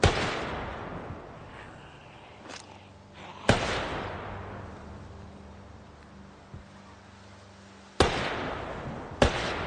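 Several loud, sharp blasts from a JS-12 shotgun in the video game Project Zomboid, spaced a few seconds apart, each followed by a long decaying echo.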